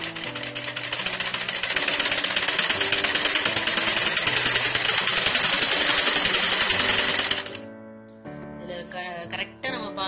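A sewing machine runs steadily, stitching the V-shaped seam joining the legs of a circular palazzo skirt. It hums continuously for about seven seconds, then stops, and a few quieter handling noises follow.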